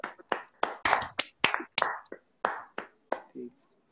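A few students clap louder in an online class, giving a short burst of sharp, close hand claps that thin out and stop near the end.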